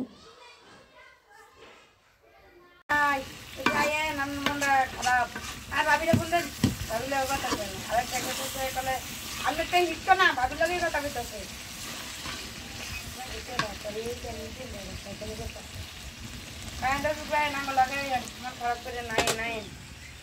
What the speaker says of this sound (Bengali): এত সুন্দর করে তেলগুলা উঠতেছে, ভাজা ভাজা হয়ে গেছে কষানির মাঝেই